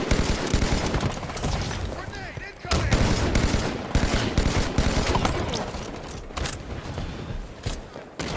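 Rapid bursts of gunfire rake a Ghost vehicle in Halo 5, loud and dense, crackling almost without pause over several seconds with brief gaps between volleys.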